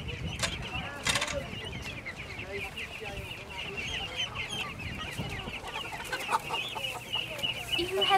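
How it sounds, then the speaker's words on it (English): Hens cluck and chatter continuously in a yard, with several birds overlapping at close to mid distance and occasional sharper squawks over a steady outdoor background. "So as you can see, there are happy hens here."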